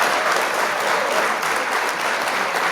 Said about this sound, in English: just clapping it up for reading the article